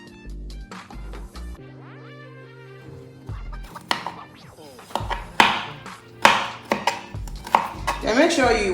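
A knife chops ginger on a board, first a few slow, spaced thuds amid other kitchen sounds, then quicker sharp chops that turn loud and crisp near the end.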